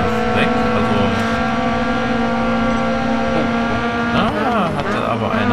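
Racing cars from GRID Autosport, including Audi race cars, drone past at close range with steady engine howl and shifting pitch as one tries to overtake, continuous and loud throughout, with a voice talking over it.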